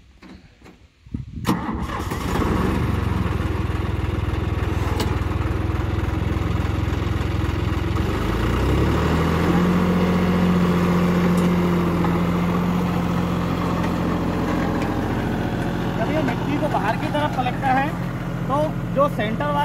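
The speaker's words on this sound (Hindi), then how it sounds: "ये देखिए अब ट्रैक्टर जा रहा है" Tractor engine cranking into life and then running steadily at a low, rumbling idle while ploughing a field, loud and close throughout.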